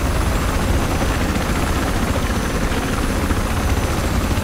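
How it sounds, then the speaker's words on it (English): A helicopter's rotor in the video game Battlefield 4 drones loud and steady throughout, a dense low thumping roar with no pauses and no voices. "trying to not get killed by a helicopter"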